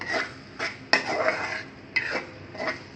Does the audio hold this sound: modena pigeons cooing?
no